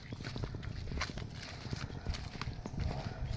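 A horse passes close on a rural path, its hooves clip-clopping loudly and steadily, with some faint voices in the background.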